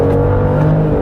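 Engine of a 2022 Genesis GV70 3.5 twin-turbo AWD SUV revving, a loud, steady, close drone with strong low harmonic tones and no talk.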